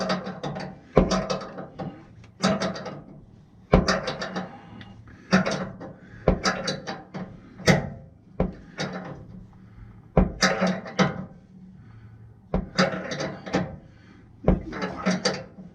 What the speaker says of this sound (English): I'm just going to use the 14mm spanner because that fits on the upper one of the to the hose barb